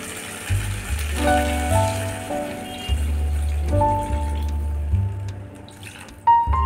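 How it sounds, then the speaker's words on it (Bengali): Water poured into vegetables and spices in a pan, a running splash with a steady low rumble and drawn-out tonal hum behind it, close and fairly loud, with no talk. "এবার আমি এর মধ্যে জল দিয়ে দেব।"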